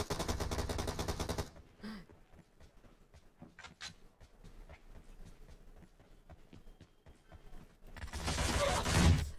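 In PUBG Mobile, bursts of rapid automatic gunfire open and close the passage, with scattered shots and clicks in between, sounding like game combat.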